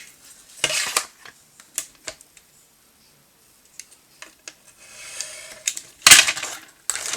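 Scissors snip paper for a junk journal in short, crisp, close bursts, with scattered light clicks and quiet gaps between the cuts.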